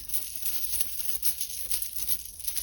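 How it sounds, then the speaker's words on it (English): Tarot cards being shuffled by hand close up, a soft papery riffle repeating in short rhythmic bursts with no speech. "I'm just shuffling them."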